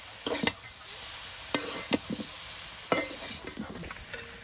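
Mixed leafy greens stir-fried in a pan hiss softly under a run of sharp scrapes and clinks from a spatula, with a few quieter stirring strokes.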